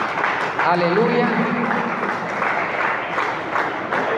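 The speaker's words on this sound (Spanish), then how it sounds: "Denle un aplauso fuerte al Señor" A church congregation claps loudly together for a few seconds, and a voice calls out over the applause.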